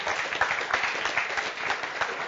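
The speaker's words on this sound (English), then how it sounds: "So a big goodbye applause from us." A crowd claps steadily, a dense wash of applause from many hands filling the room.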